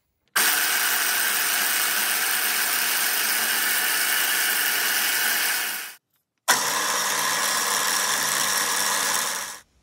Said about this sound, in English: The final step is to drill the hole for the Conrod pin before final assembly.